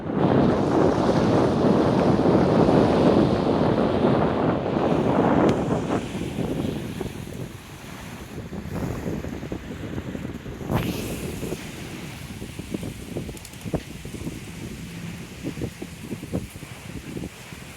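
Gusty wind at Rotary Park in Suntree, Florida on an overcast windy day buffets the microphone, roaring strongly at first and then easing into a softer, uneven rush.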